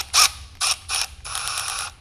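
A ratchet loosening a bolt on a Porsche 944 engine, several short bursts of close, loud clicking from the pawl, ending in a longer continuous run of rapid ratcheting.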